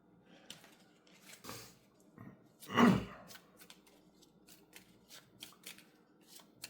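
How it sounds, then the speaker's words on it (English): Cards from a Villainous board game deck are shuffled nearby, with soft papery riffles and one louder burst of ruffling among scattered quiet taps, all fairly faint. "Shuffle the Fate discard deck into the deck."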